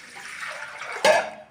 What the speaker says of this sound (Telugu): వాటర్ గ్లాస్ పోసేసి